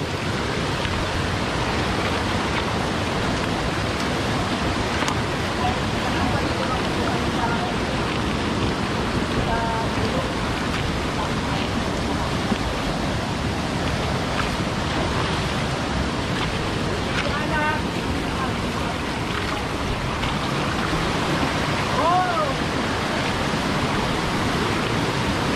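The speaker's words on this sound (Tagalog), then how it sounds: "Itong ilog na to, wala tong ano, tuloy-tuloy to, hindi siya humihinto." A river on Babuyan Island rushing steadily with strong current, a broad continuous roar of flowing water that never lets up, close and loud, with faint voices buried under it.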